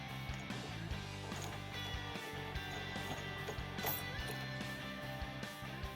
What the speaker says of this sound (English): Tighten and torque the hitch ball to the manufacturer specifications.